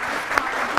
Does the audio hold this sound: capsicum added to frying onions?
no